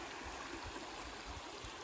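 Salmon Creek flowing along a North Country Trail campsite, a faint steady rush and low gurgle of moving water with no voices.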